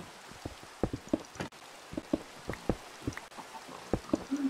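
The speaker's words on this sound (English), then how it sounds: "Can someone stop making it rain?" Steady rain falls around an outdoor primitive building site, with scattered drops pattering and tapping close by at an uneven rhythm and no voices.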